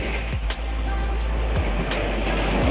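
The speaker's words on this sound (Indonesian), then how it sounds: "Saat ini saya sedang berada di bibir pantai, di pinggir pantai." Steady roar of surf on Ujung Karang beach in Meulaboh, Aceh, on an afternoon shoreline, a broad continuous wash with a few brief louder surges and no voices.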